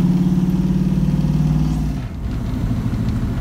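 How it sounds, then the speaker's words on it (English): A Ford Mustang fitted with a Holley Sniper EFI system runs close by while driving, a steady low engine drone with a pulsing rumble that shifts and drops slightly about two seconds in, with no talk over it. "Got the Mustang. Take it for a drive."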